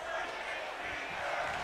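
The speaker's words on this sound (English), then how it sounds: "They're chanting, break his fingers" Arena crowd in WWE 2K23 MyGM chanting, a steady dense roar of many voices filling the whole stretch at a fairly constant level.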